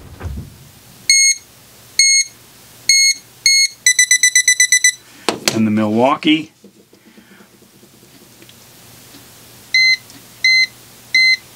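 Sharp electronic beeps from Klein and Milwaukee non-contact voltage detectors sound in short bursts, including a rapid string of chirps, then a voice speaks briefly before more evenly spaced beeps return.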